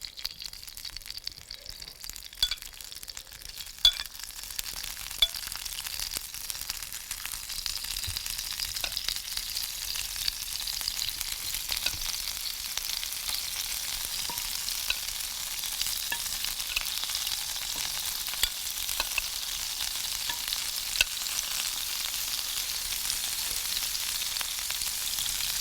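Tofu and tempeh steaks in marinade sizzle steadily on a grill, a continuous hissing fry with occasional small pops, moderately close and alone without talk.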